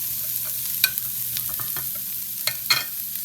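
A pan of green beans, carrots and parsley for vegetable lumpia sizzles softly under a faint hiss, punctuated by scattered scrapes and clacks of a utensil stirring the vegetables.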